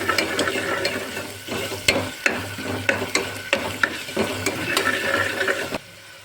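Gatta curry ingredients are stirred in a pan: a spoon scrapes and clacks against the metal in a repeated rhythm over a low sizzle, close and moderately loud, with no talk.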